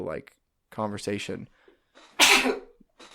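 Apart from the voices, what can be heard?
sneeze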